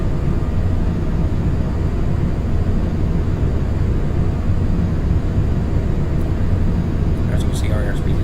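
A steady, loud roar of an airplane's engines on landing approach with the landing gear stowed, a broadband drone that stays constant throughout.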